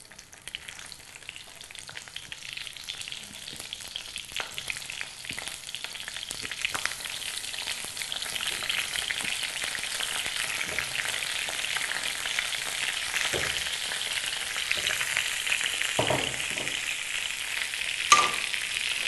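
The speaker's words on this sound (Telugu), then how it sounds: "ఈ వంకాయలను మనం ఆయిల్లో ఫ్రై చేసుకోవాలి" Brinjals (eggplants) frying in hot oil for vankaya bagara, a steady crackling sizzle that builds from quiet to a fuller hiss, with occasional utensil taps and stirring up close and no voices.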